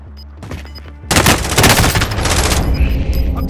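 Dense automatic gunfire from Call of Duty Warzone erupts after a quieter opening second, loud sustained bursts with booming reports continuing to the end, no talk.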